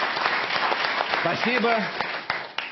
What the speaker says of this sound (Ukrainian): Пожалуйста, покажите, как вы умеете аплодировать нашим гостям.